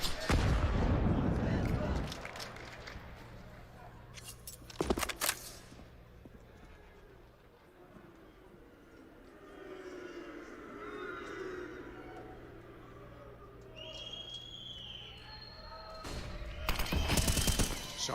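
Gunfire in a Counter-Strike match at the Katowice 2022 grand final between G2 and FaZe, with loud bursts of rapid shots at the start, near five seconds and again at the end, and a commentator talking over quieter game ambience in between.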